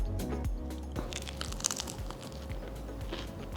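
Crispy fried paneer kurkure snack being bitten and chewed up close, a run of sharp crunches and crackles over a steady low background, loud and near with no speech.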